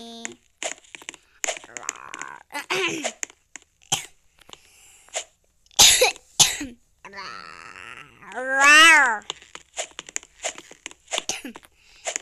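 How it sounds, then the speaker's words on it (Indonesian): A few short coughs mixed among clicks, crackles and animated voices with wailing, pitch-sliding vocal sounds from the Roblox game Bread Tower, close and loud. "Iya aku batuk, sebel."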